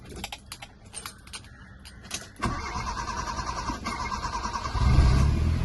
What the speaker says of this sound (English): Now let's start the car up, right, of course with the other key